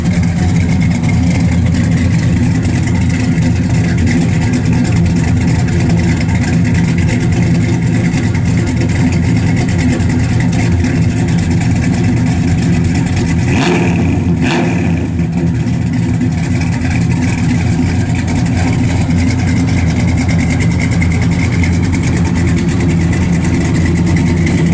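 A 1966 Chevrolet Chevelle SS V8 fitted with headers and dual Flowmaster exhaust idles close by with a deep, steady burble, plus a brief blip of revving midway.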